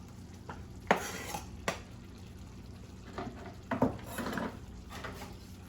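Spoon stirring tomato into fajitas in a pan, with scattered scraping knocks against the pan over a faint frying background and no voices.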